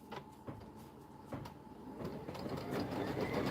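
An embroidery machine stitches a tack-down and trim line on quilt batting, giving a soft steady mechanical whir with rhythmic needle clicks that grows slightly louder toward the end.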